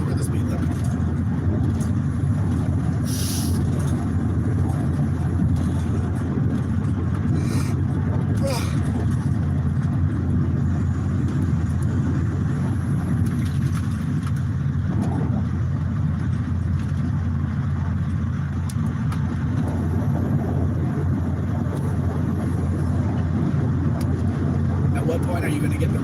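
Car cruising along a highway and passing other vehicles, a constant loud road and engine drone with occasional swells of passing traffic, people talking over it.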